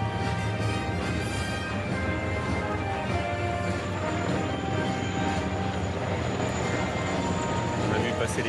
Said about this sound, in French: ces hélicoptères dans le ciel de Paris qui sont en train de survoler